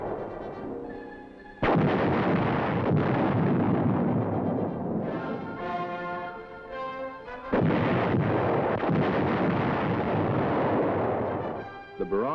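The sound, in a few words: 105mm howitzers firing artillery barrage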